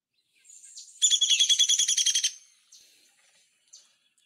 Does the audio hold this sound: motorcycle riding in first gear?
no